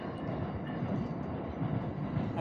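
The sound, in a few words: train going by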